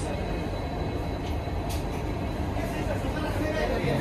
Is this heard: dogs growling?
no